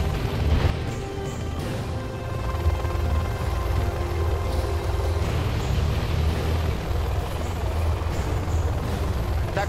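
A Chinese tactical fighter flies air patrol in Command and Conquer Generals Zero Hour. A loud, continuous engine drone rumbles throughout, with scattered thuds and crashes of battle noise mixed in.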